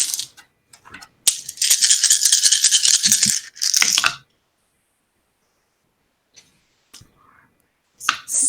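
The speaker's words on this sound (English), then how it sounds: "It's going to be a lot of dice" A handful of dice rattled hard in cupped hands for a tabletop game, a dense clattering shake lasting a few seconds, then silence and a few light taps, with another short rattle starting at the end.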